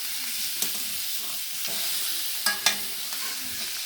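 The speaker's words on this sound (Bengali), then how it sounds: "কুমড়ো ভাজি হইতেছে, কুমড়ো ভাজি" Pumpkin frying in a pan while being stirred, a continuous sizzle with scraping and clinking strokes of a utensil at irregular moments, close and alone.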